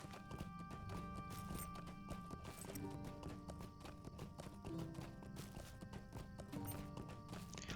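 Steady clip-clop of horse hooves trotting at an even rhythm in the video game Lord of the Rings Online, with music playing underneath throughout.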